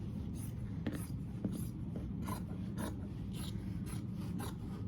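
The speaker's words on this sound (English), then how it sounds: "I'm going to cut 3 of these strips off of my yardage" Fabric strips being cut off quilting yardage produce a continuous close scraping, rasping sound with repeated brief strokes on a work surface.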